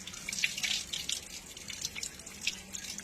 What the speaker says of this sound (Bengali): একটু ল্যার করছে বলে আমি নুন দিয়ে ধুয়ে নিচ্ছি